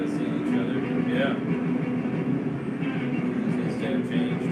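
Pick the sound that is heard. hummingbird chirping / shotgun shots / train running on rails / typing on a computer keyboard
train running on rails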